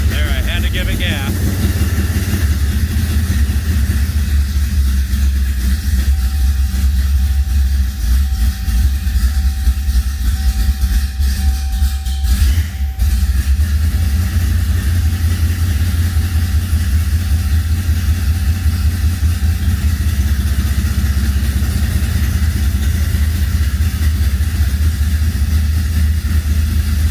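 A car engine with newly installed mufflers idles steadily and loudly, a deep, even rumble running the whole time without revving, with a brief faint tone partway through.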